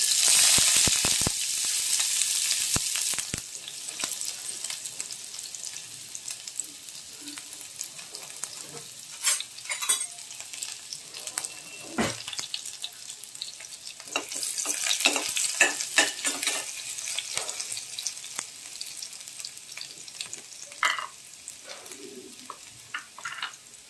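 Onion frying in a couple of spoonfuls of hot oil in a pan, a steady close sizzle with a loud burst at the start, stirring scrapes and clinks throughout, no talking.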